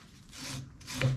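A brass brush scrubs an oiled part of a Morris Mor-Speed radial drill in two short, close rasping strokes, the second ending in a small metallic clink.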